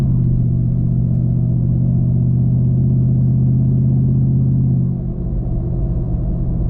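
A 2021 Ford F-150 pickup running on E85 fuel drones with a steady, loud, low engine rumble heard from inside, then eases off slightly near the end.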